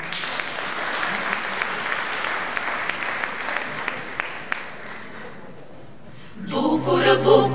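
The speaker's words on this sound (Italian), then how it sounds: "A voi un applauso!" Outdoor festival audience in Rionero-Barile clapping for a folk dance group at a Scanderbeg anniversary celebration, a sustained crowd applause that thins and fades before singing and music begin at the end.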